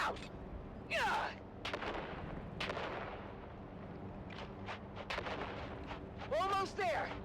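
Grenade explosions in the video game Dune Awakening hit as heavy booming blasts, one early and a cluster near the end, over a rumbling background with shouting voices mixed in.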